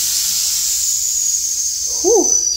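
Steady high air hiss escapes from the custom air suspension of a show-winning Volkswagen, running unbroken for the whole stretch with a brief squeaky chirp near the end.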